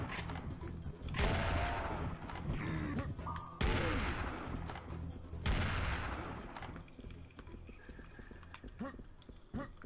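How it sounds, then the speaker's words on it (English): Minigun fire from a scorpion enemy in the Serious Sam: The First Encounter video game sounds as loud, dense bursts of rapid gunfire that repeat several times amid other game noise. "That scorpion just keeps shooting us."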